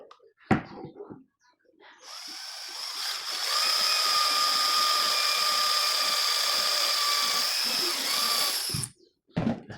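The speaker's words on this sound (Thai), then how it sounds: "ตอนนี้เราต้องเจาะครับถ้าไม่เจาะก็ไม่ได้เดี๋ยวเราจะเจาะกัน" An electric drill bores into a fan part during a fan repair, a steady whining drone with a tonal hum lasting about seven seconds, framed by brief handling knocks before and after.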